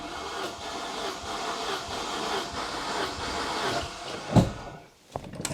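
A Saab 900 Turbo engine cranks on its starter with the throttle held wide open during a compression test on cylinder one: a steady, rhythmic churning whir with hiss, then a sudden thump and a brief drop to near silence.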